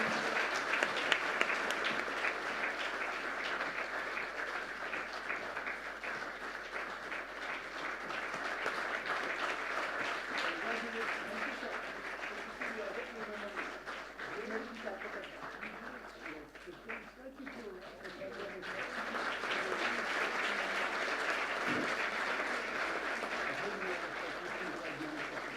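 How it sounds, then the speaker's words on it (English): Sustained, dense applause from an award ceremony audience, loud and continuous throughout with a slight dip in the middle before swelling again. "Let the clapping continue,"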